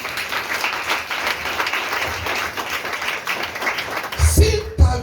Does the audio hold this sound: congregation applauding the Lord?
yes